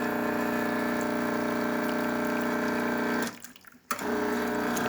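An Andreja Premium espresso machine, freshly tuned up, pulls a test shot with a steady pump drone and flowing water, cutting off briefly near the end before resuming.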